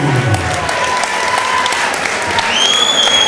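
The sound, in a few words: crowd applauding an MMA fighter's introduction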